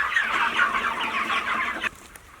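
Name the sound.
chickens clucking on a farm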